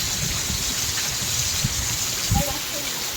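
Steady rain makes a broad, even hiss of falling water close by, with muffled voices and a few low knocks underneath.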